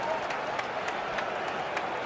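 A cricket crowd applauding at a match, sustained dense clapping from a large stand, steady and fairly loud throughout, with a faint murmur of voices underneath.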